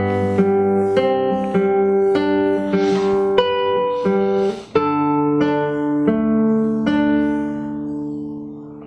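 Fingerstyle acoustic guitar plays a phrase of a piece, plucked notes ringing in a steady gentle melody over sustained bass, with a brief pause midway and no voice.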